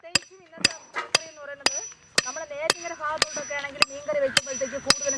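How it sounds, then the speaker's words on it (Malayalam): Steady knife chopping of tapioca on a board: about ten sharp, evenly spaced thuds, roughly two per second, with people talking underneath. "മരിച്ചിരി കൊത്തിയരിയുന്നു"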